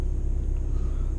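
A steady low engine and road rumble fills the cabin while a Volkswagen TDI car cruises on city streets, a brief continuous drone with no talk.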